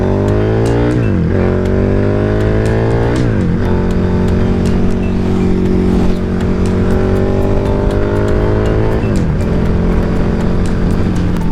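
A car drives past on a road, its engine note rising and falling through a few gear shifts as it passes nearby, loud and continuous with no talking.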